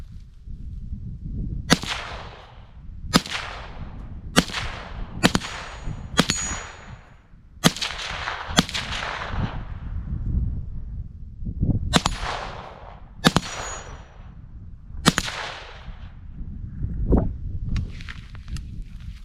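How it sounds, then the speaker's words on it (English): Suppressed gunshots from an Italian rifle with a newly threaded barrel, about a dozen sharp cracks at irregular intervals, each with a short bright tail, fired outdoors at close range with no talking. "I was just testing the suppressor and it seems to be shooting just fine"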